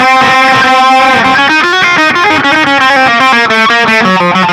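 Loud distorted electric guitar plays a quick run of sustained, harmonically rich notes, filling the sound completely.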